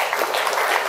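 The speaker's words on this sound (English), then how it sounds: "Can we give a big round of applause?" An audience at a business talk on AI and digital marketing breaks into applause: a dense, steady wash of many hands clapping at once, close and moderately loud, with no voices.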